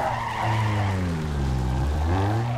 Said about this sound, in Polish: Tutaj mamy drifting.